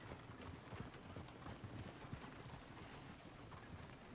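Horse hooves clip-clopping in the video game Red Dead Redemption 2, a steady run of dense hoofbeats heard fairly loud over ambient game sound.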